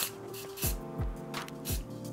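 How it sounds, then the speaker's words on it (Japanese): Alcohol spray sprayed onto the sensor of an Acerpure Pro air purifier, three or four short hissing bursts close by over a steady machine hum, with descending tonal blips. "このセンサー部分にアルコールのスプレーを吹きかけると"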